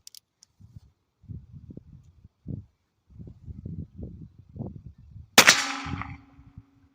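A single sharp crack from a Heritage Rough Rider .22 caliber revolver fired outdoors, with a brief ringing tail, follows several seconds of soft low shuffling and thumping sounds.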